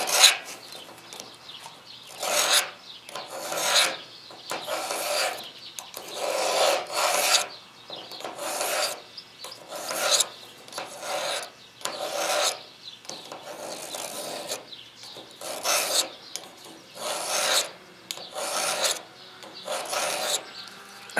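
A dull, worn knife blade is drawn across a Lansky sharpener's stone, repeated rasping strokes in a steady rhythm of short bursts with brief pauses, close and clear with no talk.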